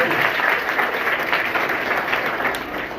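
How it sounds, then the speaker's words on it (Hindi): An audience at a school event in Mokalpur, Jaunpur claps loudly in a dense, continuous burst that holds steady for a few seconds. "एक बार जोरदार ताली बजाइए इनको।"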